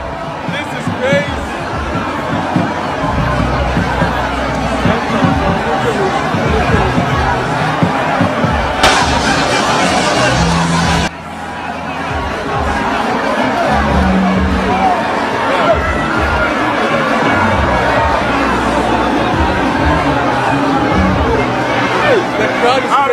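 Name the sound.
crowd at NPP internal election event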